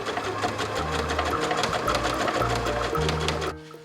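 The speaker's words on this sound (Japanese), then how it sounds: "袖を立体的にするために袖山にギャザーミシンをかけよう。" A sewing machine runs gathering stitches on a jacket sleeve cap in rapid bursts, its motor whirring and stitching evenly at close range before stopping abruptly near the end.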